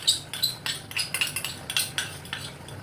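A utensil scrapes and clinks against a pan in a quick, irregular rhythm as soy sauce is stirred into gravy, with close metallic taps and a faint low sizzle beneath.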